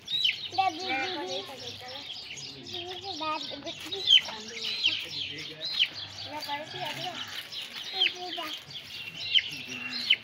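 A young chicken chick chirps in a series of high, thin peeps near the microphone, mixed with children's voices and other faint farmyard sounds around it.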